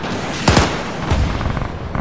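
A rocket launcher fires in a WWII Operation Market Garden combat game: a loud, sharp blast near the start, a second heavy report about half a second later, then smaller distant pops trailing off.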